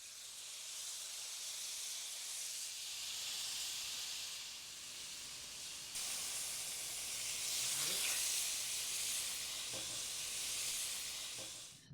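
Shrimp frying in vegetable oil in a skillet, a steady loud hiss and sizzle that holds throughout, with a few brief clicks and a slight surge partway through.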